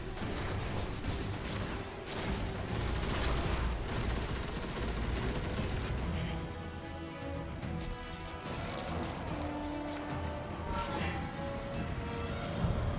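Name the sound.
sniper gunfire in a video game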